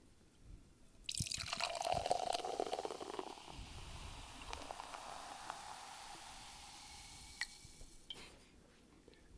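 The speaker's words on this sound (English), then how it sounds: "You hear that little drip?" Small drips of hard seltzer after it is poured into a glass, with a fizzy, liquid trickle and faint scattered drops, fairly quiet and close.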